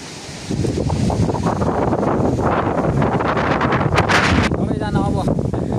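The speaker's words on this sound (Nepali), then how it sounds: "हावा कस्तो चलेको आज" Strong wind gusts loudly against the microphone outdoors by a hillside hut, a constant heavy rumble that swells after a quiet start, with people speaking underneath.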